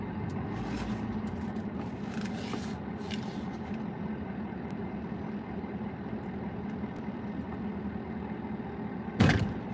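A large garbage truck's engine idles with a steady low rumble through the whole stretch, joined by scattered clanks and hisses and a sharp burst near the end.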